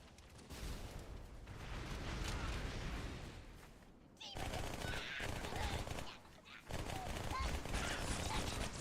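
Dense gunfire from a firefight with ODSTs in Halo 2, sustained bursts of rapid automatic shots with a short break midway, loud and continuous.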